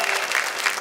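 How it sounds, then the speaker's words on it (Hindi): A brief, loud burst of audience applause for a contestant on a Hindi poetry stage show, a dense, steady clapping wash lasting under a second. "किरण दुबे के लिए तालियां बजाइए"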